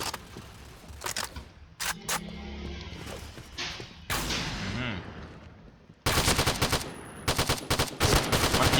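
Ultimax machine gun with a 100-round magazine firing in the video game Point Blank: several loud bursts of rapid automatic fire, with short gaps and scattered thuds, ending in a long, dense sustained burst.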